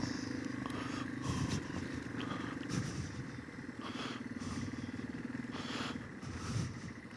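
A 2005 Yamaha XT225 single-cylinder motorcycle engine pulls steadily in second gear, a faint, throbbing low drone with wind noise and slight rises in revs.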